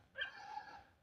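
Dogs guarding a hill, Monte do Jockey, yelp and bark before dawn, a single drawn-out, whining cry of moderate strength at some distance, with no talking over it.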